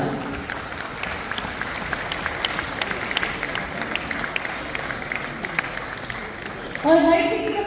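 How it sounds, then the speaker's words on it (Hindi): Audience applause at an award ceremony, steady dense clapping from a crowd filling the room throughout, with a louder swell near the end and talk over it. "आप सबकी भरपूर तालियों में मैं बुलाना चाहूंगा को फाउंडर पार्कविल जनाब सुनील सरफराज"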